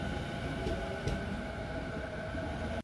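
A freight train of many tank wagons loaded with gasoline departs at night behind an EH200 electric locomotive, a steady broad rumble and rolling noise holding even and loud, with faint high tones above and no talk.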